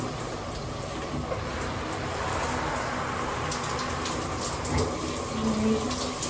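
Tap water runs steadily with a soft, constant splashing while hair is wetted for a wash, moderately close, with no talking.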